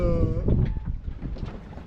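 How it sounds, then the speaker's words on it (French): Fully battened mainsail of a sailboat flapping hard in the wind on an ocean crossing, with loud irregular cracks and luffing over steady wind and water noise, close to the microphone. "comme elle est entière, elle est full button, entièrement latée, elle claque, on l'entend là."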